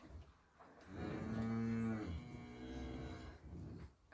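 A cow moos once, long and loud with a rich harmonic tone, close to the listener, with a quieter tail of lowing before it fades.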